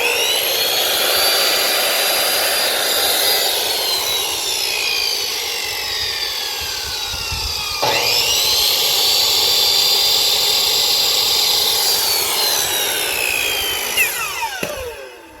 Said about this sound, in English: I've been running this power saw, or miter saw, off of it.